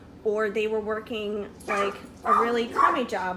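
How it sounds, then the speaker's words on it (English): A pet dog named Shadow barks and whimpers in short yelping bursts from somewhere nearby indoors, several rounds spread over a few seconds while a person keeps talking over them. "that's my dog"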